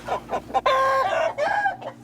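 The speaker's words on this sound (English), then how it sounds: "check on your traditional chickens or Kienyeji" A flock of traditional Kienyeji chickens clucks and calls on a smallholder farm, with several overlapping birds close by, including a loud drawn-out crow-like call in the middle.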